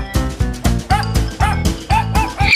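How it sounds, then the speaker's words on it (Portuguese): A small dog barks repeatedly, about nine quick, sharp yaps in a steady rhythm, close and fairly loud, with a faint whine between some barks. "Vem, vem, John John, traz seu cachorrinho que você tá tomando conta."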